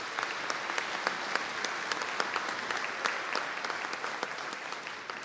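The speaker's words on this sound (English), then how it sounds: "Could we give them all a round of applause, please?" Audience applause at a college conferring ceremony in Donegal, a steady, moderately quiet patter of many hands clapping without a break for several seconds.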